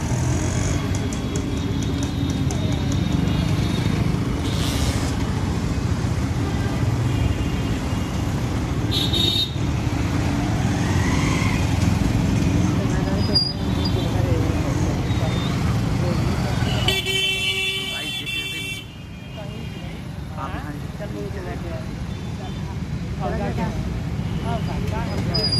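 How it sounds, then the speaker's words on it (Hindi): Dense road traffic hums at a steady level, engines droning near and far with occasional car horn toots cutting through, while someone talks over the noise. "यहाँ भी ट्रैफिक बहुत तगड़ा है, ट्रैफिक बहुत तगड़ा है।"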